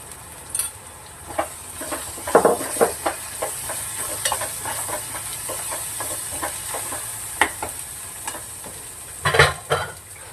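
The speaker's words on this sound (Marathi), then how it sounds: "ते छान असं मसाला भाजून घेतलाय" Homemade red masala roasting in a pan, a continuous soft sizzle broken by repeated scraping strokes of a spoon, with a cluster of louder scrapes near the end.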